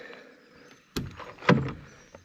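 Rear door of a Series Land Rover swung shut, a sharp metallic clunk followed by a second heavier thud and a brief rattle, close and fairly quiet against a faint background hiss.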